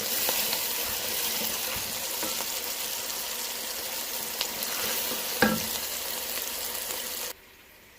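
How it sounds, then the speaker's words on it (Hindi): Cooking oil frying in a karahi for mutton karahi, a steady close hiss and sizzle with a few stirring clinks that cuts off near the end, no voices. "इनको 5 मिनट तक मैं फ्राई करूँगी। कुकिंग ऑयल भी मैंने डाल दिया है।"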